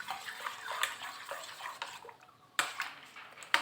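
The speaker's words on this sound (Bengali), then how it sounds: "এবার চামচের সাহায্যে মিশিয়ে দেব।" A spoon stirs bael fruit sherbet in a glass of water, giving a run of light clinks and swishes with a few sharper knocks against the glass. It is fairly faint and close, with no talk.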